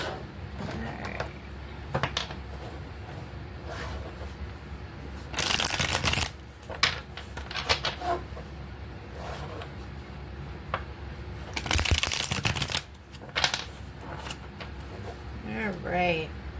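Tarot cards are shuffled and pulled from the deck, giving two loud riffling bursts and smaller flicks and slides, with faint voices in the background.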